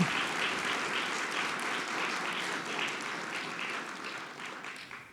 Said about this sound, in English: let's give him a round of applause at the outset